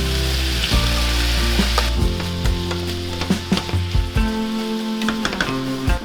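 Chopped orange pepper and sweet onion sizzle steadily in a pan with browning ground beef, with a continuous close frying hiss and occasional utensil clinks and stirring scrapes throughout.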